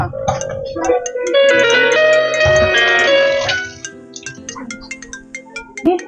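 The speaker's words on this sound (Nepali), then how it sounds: "को फोन आएछ?" A phone ringtone plays loudly as a steady tonal melody for about four seconds, then stops, leaving quieter scattered sounds and faint voices.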